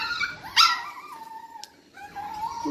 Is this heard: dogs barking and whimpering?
yes